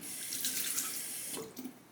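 Running water splashes steadily over a honing stone as the slurry is rinsed away, a close, continuous tap stream that thins slightly near the end.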